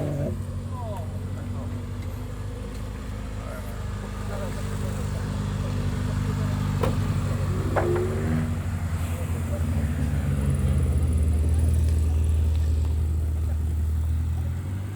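Mitsubishi Evo engine rumbling steadily at the Polish Japfest car show, a low continuous drone that swells a little midway, with crowd chatter and other show noise around it.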